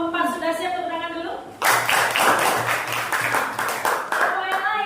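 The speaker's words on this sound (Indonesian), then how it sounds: "tepuk tangan dulu." A classroom of students claps for a group that is ready to present, a burst of dense rhythmic hand clapping that follows a teacher speaking and continues to the end.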